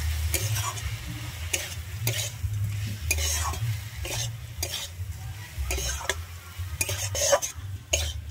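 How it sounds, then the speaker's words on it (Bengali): Fried red spinach is stirred together with crushed peanuts and poppy seeds in a pan, with repeated scraping and clinking strokes of a utensil over a soft, low sizzle. "আমি এবার এটাকে ভালোভাবে মিশিয়ে নিচ্ছি।"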